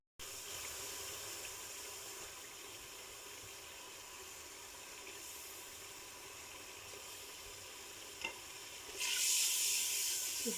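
Spice masala with ginger-garlic paste fries in a pan while being stirred for dal, giving a steady low sizzle and hiss. Stirring scrapes are faint, and the sizzle grows louder and brighter near the end.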